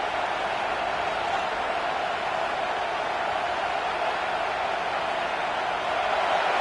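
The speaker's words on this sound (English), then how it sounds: "And the crowd coming to life here, trying to help this defense down in the red zone." American football stadium crowd at an LSU game, cheering as a dense, constant roar that stays loud and even throughout.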